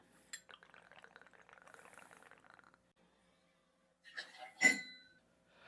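Absolut vodka poured into a glass for an Oreo mudslide: a quiet trickle lasting about two seconds, a pause, then a couple of sharp glassy clinks and knocks.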